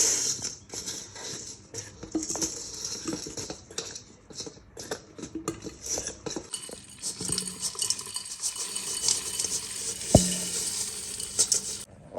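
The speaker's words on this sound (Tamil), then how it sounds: "நீங்கள் ஒரு சில்வர் கரண்டி இல்லைன்னா மரக்கரண்டி போட்டு கிளறி விடணும்" Silver or wooden spoon stirring mango pickle in a bowl, with repeated soft scraping and clinking strokes close up and one sharper knock near the end.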